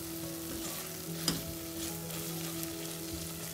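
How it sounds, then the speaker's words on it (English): Tomatoes sauté in a pan for spinach khichdi with fresh turmeric, a steady close sizzle with a scrape or clink of the spoon as they are stirred, and no talk. "Into this goes our tomatoes, and I will be mixing them nicely, and we let this saute for 2 to 3 minutes."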